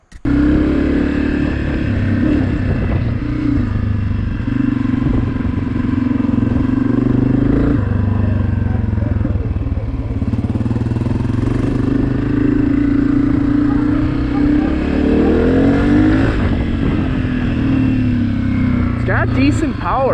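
A 2023 Honda CRF250F dirt bike being ridden on a wet trail, its engine droning steadily with shifting revs and clattering, loud and close throughout, with a voice speaking over parts of it.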